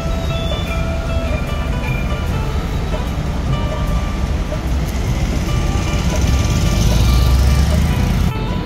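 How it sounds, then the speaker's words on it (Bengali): A train rolls along a track beside a road at Dubai Marina at night, a loud continuous low rumble with faint tonal hum and traffic noise building slightly toward the end, alongside a voice. "দেখেন একটা ট্রেন বাসের রাস্তার সাথে ওই রাস্তাটা সুন্দর একটা ট্রেন আসতেছে।"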